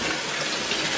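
Tap water runs in a steady, moderately loud stream while produce is washed in a kitchen, with no talking.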